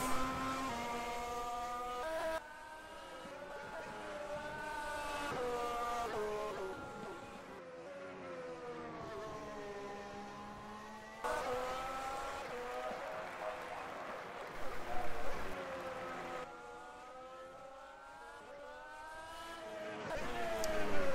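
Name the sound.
race car engine in a Formula 1 racing video game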